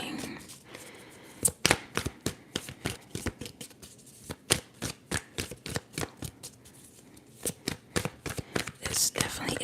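A deck of tarot cards is shuffled close up in a quiet ASMR setting, with rapid riffles, crisp snaps and soft flicks coming in uneven bursts. Faint whispering is heard in the background.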